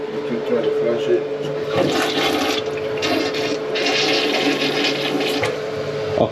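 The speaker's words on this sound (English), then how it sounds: "Try to flush it." A slow-draining household toilet flushes in one continuous watery rush that holds steady for several seconds, with people talking faintly over it.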